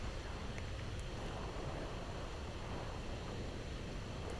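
Steady, dense wind rushing past a paraglider on its landing approach near Mission Peak, a continuous broadband roar with no talk.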